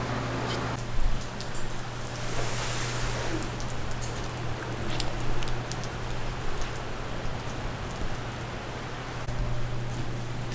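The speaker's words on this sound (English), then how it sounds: "Wasn't planning on rain" Steady rain falls outdoors, a continuous soft hiss of drops spread evenly across the whole stretch with no pauses or voices.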